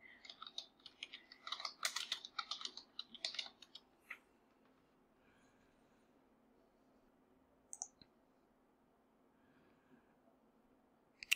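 Quiet, quick keystrokes on a computer keyboard come in a rapid burst over the first few seconds, then a long near-silent pause and a couple of isolated key taps; no talking.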